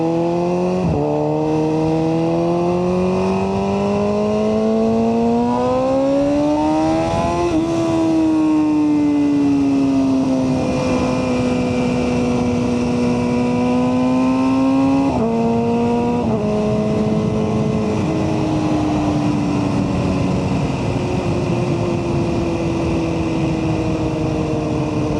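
A 2024 BMW M1000R motorcycle fitted with an Akrapovic header and BT tune roars loudly and continuously, its engine pitch climbing through gears, dipping on shifts and rising again in repeated sweeps over a steady high-revving drone.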